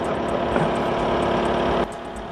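A remote-controlled Bobcat T66 loader's engine runs steadily at a close, loud idle, its even rumble dropping slightly in level near the end.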